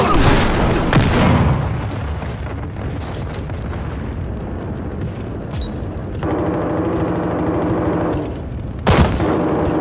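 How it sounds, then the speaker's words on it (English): Grenade blast and gunfire in a game played with an SA-58 battle rifle: a loud close boom opens the scene, then rapid automatic fire and scattered shots follow under shouted voices. "Grenade out!"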